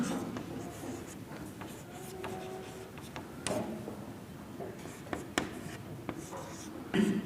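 Pen strokes scratch on paper as a geometry construction's verification is written by hand, a soft continuous scribble with occasional taps, close and quiet.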